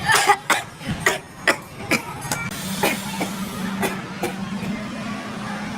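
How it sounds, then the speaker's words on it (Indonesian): A person coughs repeatedly in sharp, loud bursts, about ten over several seconds, each short and close, with a low steady hum underneath. "Anjeun batuk."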